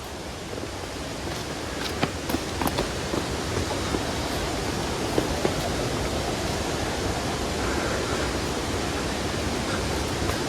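Steady broadband roar of a monsoon-season waterfall beside a stony forest trail in the Jharkhand jungle, continuous and fairly loud from start to finish, with a few faint clicks over the rush.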